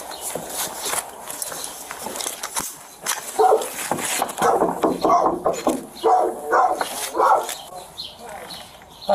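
Inside a house, a dog barks and whimpers in short bursts, some close and some muffled, mixed with footsteps, knocking and people talking.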